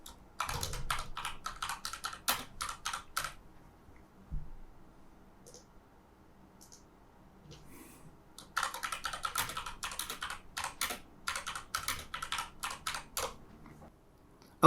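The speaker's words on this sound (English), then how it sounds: "we can right click in the memo area, and then we can type something in" Computer keyboard typing in bursts of quick, crisp clicks, a flurry at the start and another after a quiet pause with a stray click or two between, close and without talk.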